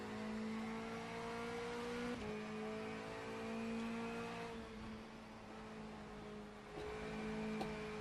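A front-wheel-drive touring car's engine holds a steady, droning high pitch under acceleration on the Top Gear test track, with brief dips as gears shift, loud and continuous with no talk.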